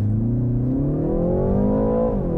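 A 2023 BMW 330i xDrive sport sedan's engine holds a loud, steady rev that climbs gently in pitch, then dips slightly as it builds boost before an all-wheel-drive launch, heard close and alone.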